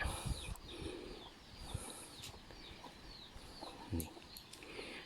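Chickens forage in a rural garden during the dry season, giving soft clucks and scattered scratching sounds at moderate distance, along with faint bird calls in the background.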